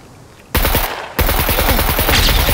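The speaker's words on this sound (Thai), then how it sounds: "มันยิงผมอยู" Gunfire in the video game SCUM: after a brief quiet moment, loud rapid automatic bursts break out and continue as fast, dense shots to the end.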